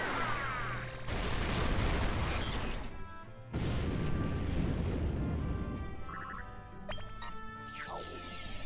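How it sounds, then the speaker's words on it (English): A fire-element Electron Explosion attack from Disgaea 4 booms out in heavy, roaring bursts, a loud crashing blast that breaks off briefly and then surges again, trailed by bright chiming and zapping effects. "This is it! Electron Explosion! F level, Fire Element."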